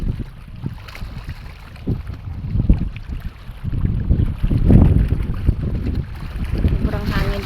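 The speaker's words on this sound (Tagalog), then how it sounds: "Sobrang hangin talaga" Gusty wind rumbles against the microphone in uneven bursts, rising and falling, with seaside outdoor ambience and occasional faint voices underneath.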